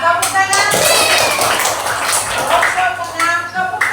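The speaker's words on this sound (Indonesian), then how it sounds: "Tepuk tangan." A classroom group claps in a busy burst of applause, mixed with children's chatter and voices throughout.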